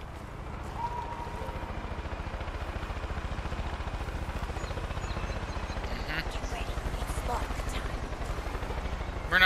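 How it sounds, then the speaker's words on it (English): Helicopters fly in the video game Far Cry 5, giving a steady, loud, chopping rotor drone that continues through the whole stretch, with faint game noises over it. "they're in helicopters, you idiot."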